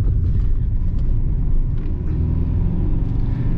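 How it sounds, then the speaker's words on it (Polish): A car engine runs steadily at about 3000 rpm during a diagnostic scanner test, a loud continuous low rumble with no talking. "Auto w tym momencie ogólnie kręci się w zasadzie do 3000 obrotów."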